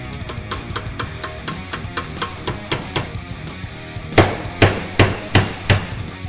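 Repeated hammer strikes flare the end of a rusty old brake line on a Triumph Spitfire parts car, about a dozen sharp metallic taps in steady rhythm that grow louder and heavier toward the end, close by with no talk.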